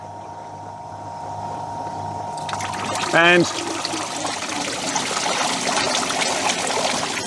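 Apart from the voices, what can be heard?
evaporative air conditioner pump delivering water curtain over pads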